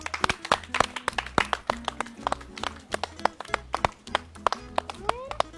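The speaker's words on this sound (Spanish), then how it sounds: "un fuerte aplauso!" Clapping comes from a talent show audience as a rap act is about to start, with sharp, individual claps landing in an uneven rhythm over a thumping beat and bright backing music.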